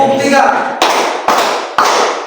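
Three sharp hand claps follow a counted lead-in, evenly spaced and loud in a room, with a voice speaking just before them.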